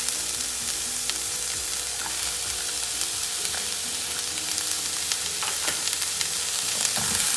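Carrots, mushrooms and cabbage stir-fry in a hot pan as filling for homemade egg rolls, a steady, close sizzle with occasional clinks and scrapes of stirring throughout, no talking.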